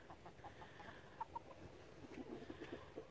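A backyard chicken flock clucks softly in short scattered bursts, with a few brief calls rising over a steady low outdoor rumble.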